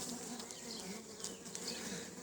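Dense, steady buzzing of many honeybees inside a 10-frame hive during a hive inspection, close up and continuous without any voices.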